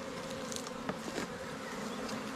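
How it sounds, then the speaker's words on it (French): Honey bees from a swarm buzz over a nucleus hive in a dense, close, continuous drone, with a few individual bees passing nearby. "je vais secouer les abeilles pour les faire descendre beaucoup plus vite."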